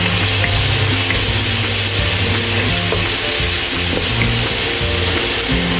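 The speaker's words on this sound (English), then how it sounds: "Add a teaspoon of soy sauce or scallion soy sauce. Stir-fry evenly." Mushrooms stir-frying in a pan with a spoonful of soy sauce, a steady loud sizzle running throughout with scraping stirs and a faint watery hiss, no voices.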